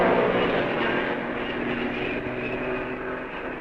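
Mercedes racing cars roar past at the 1955 Belgian Grand Prix, a loud, steady engine drone filling the stretch and slowly fading, with no talk over it.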